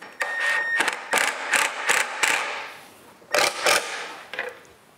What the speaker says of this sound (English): I'll drop some pocket screws in here